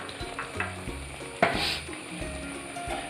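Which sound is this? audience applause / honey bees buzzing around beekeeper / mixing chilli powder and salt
mixing chilli powder and salt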